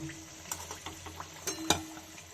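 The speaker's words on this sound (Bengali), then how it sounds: "এইভাবে আমি সবগুলোকে ভেজে নেব দেখুন গরম গরম সিঙ্গারা আমার তৈরি হয়ে গেছে" Cauliflower singaras fry in hot oil with a soft, steady sizzle, broken by several light clinks and scrapes of a utensil against the pan and one sharper knock near the end.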